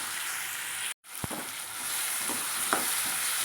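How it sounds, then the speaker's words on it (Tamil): Tomatoes and onions sauté in a stone pot with a steady, close sizzle, broken by a brief silent gap and a few soft stirring knocks; no one speaks. "இப்போ தக்காளி வந்து நல்லா வதங்கிடுது."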